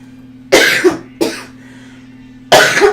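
Someone recovering from illness gives three loud, close, harsh coughs, two in quick succession and a third after a short pause, over a low steady hum.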